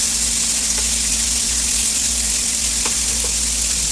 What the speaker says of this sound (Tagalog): Igisa po natin ng maigi bago po natin ilagay yung ibang ingredients